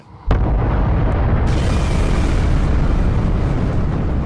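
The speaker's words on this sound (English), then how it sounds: "we both would blow ourselves to smithereens in a gigantic nuclear explosion" A huge nuclear-style explosion effect depicting matter and antimatter annihilating: a sharp onset that bursts into a loud, sustained roaring rumble, swelling brighter partway through and continuing alone without letup.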